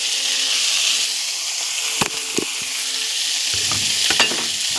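Boiled banana flower frying in a pan with turmeric, a loud, close, steady sizzle with a few sharp utensil taps and scrapes as it is stirred.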